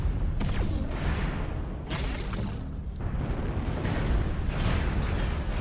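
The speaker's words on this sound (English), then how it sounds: "Warning, incoming missile." A missile blast strikes a mech in a video game, producing a loud, continuous wash of explosive rumble and roaring noise with a few swelling bursts, dense and close throughout.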